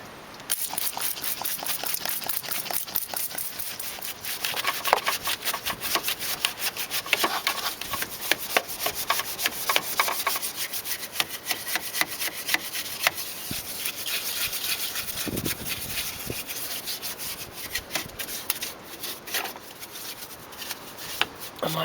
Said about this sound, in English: I'll reapply the degreaser and agitate again